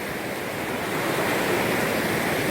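Rushing water at the meeting of two rivers near the Chenab River in a cold mountain area, a steady broad roar of turbulent flow, loud and continuous throughout with no voices.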